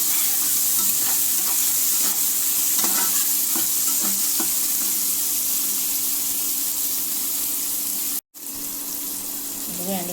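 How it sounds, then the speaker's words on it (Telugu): Green chillies, curry leaves and cashews sizzle steadily in hot oil in a pan, a close continuous frying hiss with occasional stirring scrapes and a brief break near the end. "ఇప్పుడు పచ్చిమిరపకాయలు, కరివేపాకు, జీడిపప్పు కూడా వేసేసుకున్నాము."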